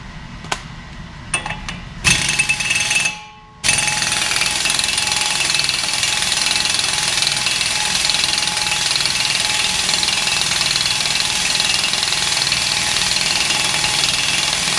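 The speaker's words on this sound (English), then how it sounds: "the heat just kicked back on, so it's going to get a little noisy for a second" A garage heater roars on and runs as a loud, steady broadband rush, following a few scattered knocks and a brief drop to near silence, during work on a Chevrolet Tahoe wheel hub.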